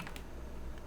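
Ctrl R is pressed on a computer keyboard: a couple of quick, faint key clicks over a low room hum.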